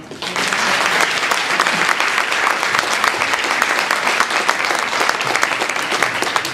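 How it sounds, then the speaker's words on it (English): A forum audience at a legislative panel discussion gives a steady, dense round of applause for the panelists, sustained and fairly loud throughout, with a voice faintly audible beneath it. "let's expand that round of applause to thank our panelists for coming today"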